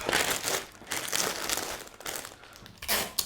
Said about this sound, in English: just bringing the bottom up and bringing the corners in, I can fold this up